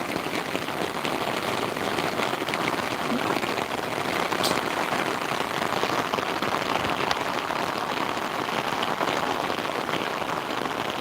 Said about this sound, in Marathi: एक पाऊस